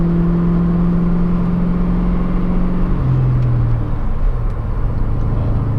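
A Ford Mustang Mach 1 cruising in fifth gear with 4.10 gearing: loud, steady engine drone with a sustained whine that steps down in pitch partway through, continuous and close.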